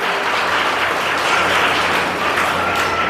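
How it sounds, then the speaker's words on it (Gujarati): Audience applause welcoming guests at a community organisation gathering: dense, sustained clapping from many hands, loud and close, steady throughout with no talk over it. "આપણે સૌ તેમનું તાળીઓથી સ્વાગત કરીએ"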